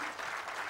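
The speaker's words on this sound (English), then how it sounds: "Once again, a big round of applause for Hannah Rothschild, Esther Freud, and Ale" Audience applause at a literary festival session, steady dense clapping from a crowd, moderately loud and unbroken, with no voices over it.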